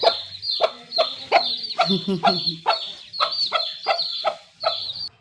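A hen with her three young chicks gives a continuous string of quick, close clucks, some lower throaty gobbling notes mixed in midway, loud and steady throughout without talk.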